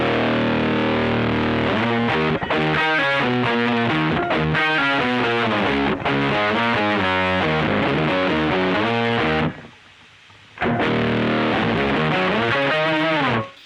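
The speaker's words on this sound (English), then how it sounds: "Normally when I'm doing this, I'm combining it with the fuzz, which sounds like this." Electric guitar with a fuzz pedal and a Boss Pitchfork set to octave down: thick, heavy, buzzing low riffs played loud and close, with a short silent gap before the playing resumes.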